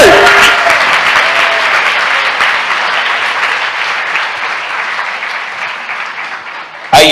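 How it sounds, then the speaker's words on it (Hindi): Congregation applauding together at a church service, a loud, dense and sustained wash of clapping hands that holds steady and fades slightly before ending abruptly. "आइए इस वचन के लिए ताली बजाएं।"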